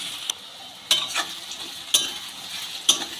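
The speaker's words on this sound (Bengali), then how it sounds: "লবণটা দিলে পেঁয়াজটা তাড়াতাড়ি ভাজাও হয়ে যায়," Salted onion frying in a pan for chilli soyabean gives a soft background sizzle, broken by about four sharp scraping stirs at roughly one-second intervals.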